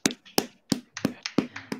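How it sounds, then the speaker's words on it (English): Several people clap in a short, uneven burst for a new quiz club champion, about eight distinct sharp claps close by, with no talking. "Give the man a round of applause"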